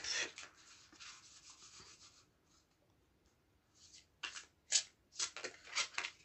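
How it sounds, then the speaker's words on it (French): Oracle cards being shuffled by hand, soft papery rubbing and riffling that fades to near quiet in the middle, then returns in brisk, quick bursts. "Je vais déjà commencer par battre les cartes."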